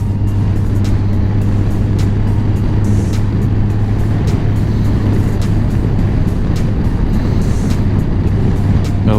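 A 2020 Honda GoldWing Tour DCT motorcycle rides at highway speed in high wind with the windshield fully down, a steady loud engine drone mixed with heavy wind roar throughout, with no speech.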